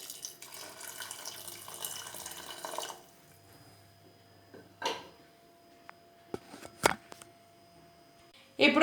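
Hot water pours in a home kitchen while pongal is being made, a soft splashing stream for about three seconds, then quiet broken by a few sharp clinks and knocks of utensils.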